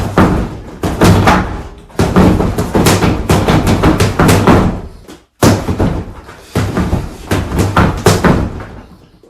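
Punches land in quick bursts on a Century Wavemaster freestanding punching bag. The hits are loud, close and dull, with one short pause between flurries and no talking.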